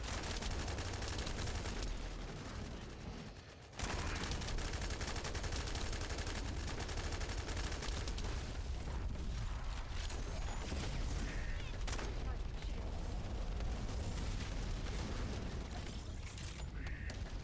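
Gunfire in The First Descendant comes as dense, sustained bursts of rapid shots and mechanical clatter. It is loud and near and almost continuous, with a brief drop just before the four-second mark, and no speech.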